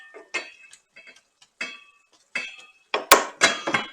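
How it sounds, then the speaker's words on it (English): A utensil stirs Mongolian beef in a hot pan, making an irregular run of close, sharp metallic clinks and scrapes separated by short pauses, growing busier toward the end. "we're going to give it another stir"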